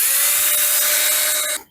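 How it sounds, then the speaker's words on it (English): Power drill boring a starter hole into hard pressure-treated wood for a bolt, a steady high-pitched whine held for about a second and a half before cutting off abruptly, close and loud with no talk. "let's drill a starter hole to put that bolt through"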